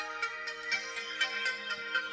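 A phone ringtone announces an incoming call, a steady melodic tone with a regular pulsing rhythm playing continuously at moderate volume, with no talking over it.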